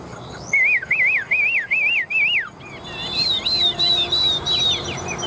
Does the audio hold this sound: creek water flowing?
no